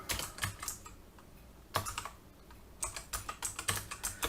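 Someone types an SQL select statement on a computer keyboard, the keys clattering in quick bursts with short pauses between them, close and moderately quiet, with no talking.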